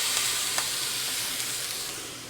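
A flat steak sizzles loudly and steadily on a hot cooking surface, a dense continuous hiss with a few sharp crackles near the start, slowly easing off, with no voices.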